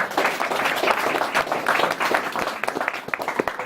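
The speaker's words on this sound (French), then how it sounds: "Et on les applaudit et on les laisse faire." Audience members clap for young poets at a poetry gathering, a moderate burst of hand claps close by that thins into scattered individual claps toward the end.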